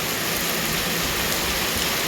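Steady, dense rain pouring down nearby, a continuous even hiss with no pauses and no voices.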